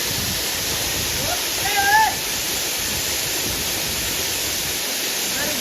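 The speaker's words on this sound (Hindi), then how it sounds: "और पीछे एकदम झरना है" A waterfall at a hidden forest spot during a Ganesh immersion outing, a steady broadband rush of falling water filling the whole clip, with a brief louder swell and faint whistle-like tones near the middle.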